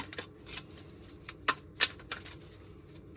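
A deck of tarot cards is shuffled by hand up close, giving quiet irregular riffles and sharp flicks with scattered crisp snaps. The shuffling runs alone with no speech.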